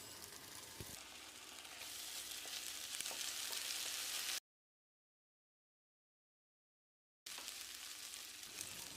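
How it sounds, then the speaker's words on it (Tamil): Ginger garlic paste sizzles and fries steadily in a hot pan, a close hissing crackle that cuts out briefly to silence before resuming. "இதில் ரெண்டு டீஸ்பூன் இஞ்சி பூண்டு விழுது சேர்த்து பச்சை வாசனை போகிற அளவுக்கு ஃப்ரை"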